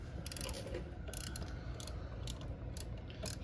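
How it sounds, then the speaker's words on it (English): Metal clicks and ratcheting taps from refitting an ABS sensor into a new wheel hub on a 2010 VW, coming in short irregular bursts close by with no talking. "So right now we are putting the ABS sensor back in."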